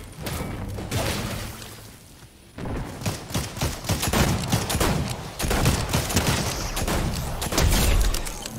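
Gunfire in the video game Fortnite: dense bursts of shots and rapid automatic fire crackle steadily after a brief lull, loud and continuous with thumps mixed in, no talking.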